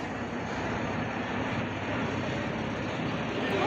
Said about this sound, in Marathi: ही बघा कर्जत ट्रेन सकाळी 9:15ची. रेल्वे स्टेशनला आलेलो आहे आता.